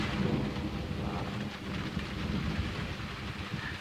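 Heavy rain pours steadily during a thunderstorm in Crestline, California, a dense constant hiss with low rumbling thunder rolling underneath, close and enveloping with no voices.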